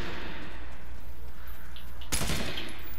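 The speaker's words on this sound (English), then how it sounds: "Oh, that's gunfire." Gunfire in a video game set in Trinity Hills: a sudden loud burst of shots cuts through the steady background game noise partway through.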